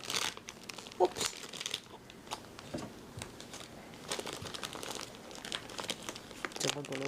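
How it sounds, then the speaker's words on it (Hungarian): Wrapping paper crinkles and tears as a gift is unwrapped, with continuous close rustling and crumpling bursts while people talk throughout. "Csomagoló papír."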